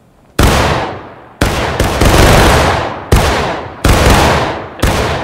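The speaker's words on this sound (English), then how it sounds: "just empty your gun. Empty your gun in the air." A volley of muskets fired into the air in the War of Rights Civil War game, loud overlapping cracks in several ragged bursts, each shot's echo trailing off before the next group fires.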